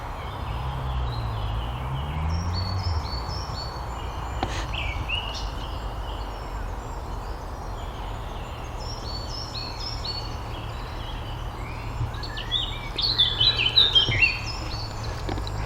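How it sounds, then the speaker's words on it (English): Birds sing and chirp outdoors in repeated bright phrases, fairly close, with a low rumbling background hum and a busier burst of calls near the end. "Lovely birds."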